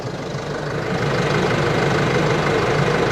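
A team car's engine idles with a rough, knocking thump from a cracked part, a loud, steady, close drone that holds without pause and has no talk over it.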